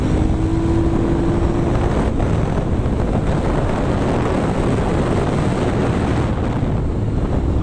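An Aprilia Shiver 900 motorcycle engine, derestricted, pulls steadily on the road, a continuous low throbbing drone heavily mixed with strong wind rush, with a brief rising tone early on.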